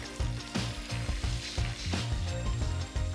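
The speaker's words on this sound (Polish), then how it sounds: "Na to masło będę wsadzał przy pomocy szczypiec tego cudownego królika." Pieces of rabbit sizzle in butter and olive oil in a hot pan: a steady crackling fry close by, overlaid with a low rhythmic knocking pattern of repeated thumps, no speech.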